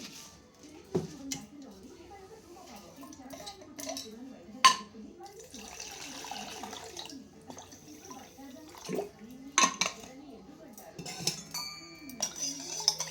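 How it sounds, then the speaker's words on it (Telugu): Cold water is poured into fresh lemon juice with sugar and salt, with a soft trickle and glass and spoon clinks and a few sharper knocks, while someone talks. "బాగా చల్లటి నీళ్ళు పోసి కలుపుతానండి"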